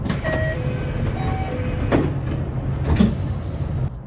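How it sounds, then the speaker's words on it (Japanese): A JR West Special Rapid train's doors close at Aboshi Station in a loud pneumatic burst, with two sharp hissing thumps over a steady mechanical hum and a few short electronic tones before it. "さあ列車の扉が閉まります。"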